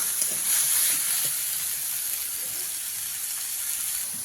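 Crab pieces frying in hot oil in a pan, seasoned with salt and turmeric, giving a loud bright hissing sizzle that holds steadily throughout and eases slightly toward the end.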